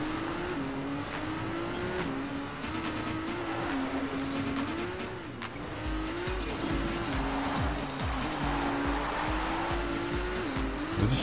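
Tires squeal and skid continuously over a steady, droning car engine in the Trackmania Turbo racing game on PS4, with the pitch wavering as the car slides, loud and unbroken throughout.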